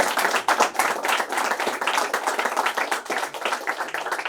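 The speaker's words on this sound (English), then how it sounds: "please give them a huge round of applause for all of them" Dense audience clapping at a college festival event welcoming singers on stage, a steady crowd of hands with some scattered cheers, loud and close.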